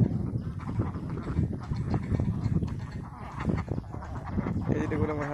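A flock of ducks quacks near at hand in dense, overlapping calls, with some speech mixed in among them.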